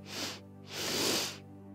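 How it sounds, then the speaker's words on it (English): A two-part inhale drawn close to the mic: a short airy breath, a pause, then a longer, deeper rushing intake filling the chest, soft and alone. "The technique that we'll be exploring today involves a two-part inhale, either through the nose or through the mouth,"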